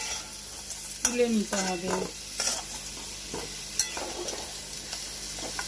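Potatoes frying in mustard oil in a pan with steady sizzling, punctuated by a few scraping stirs of a spatula and light clinks of utensils; a voice briefly speaks over the cooking.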